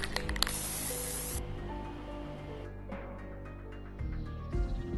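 Mirror chrome spray paint hisses from an aerosol can in short, light passes, a close steady spray broken by brief pauses and a final quick burst.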